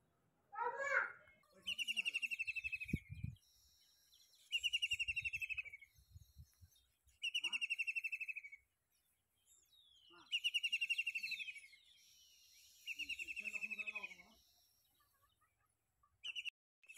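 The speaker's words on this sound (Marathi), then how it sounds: "झाडावरती पक्षी बसलेला आहे, तो कसा ओरडतोय पहा." A bird perched in a tree near a farm well calls in repeated bursts of bright chirping trills, each lasting a second or two with short gaps, fairly close and clear over a quiet background with a few soft voices.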